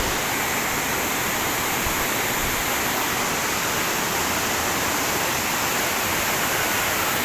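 Thirumoorthy waterfall pours water in a steady, dense roar of falling and splashing water, loud and unbroken from start to finish, with no voices over it.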